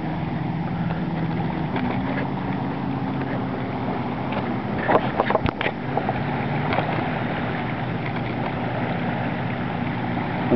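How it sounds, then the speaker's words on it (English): A motorboat towing a water skier on a lake drones steadily in the distance over wind and lapping water, with a few brief knocks near the microphone. "the boat out there dragging someone around on his skis"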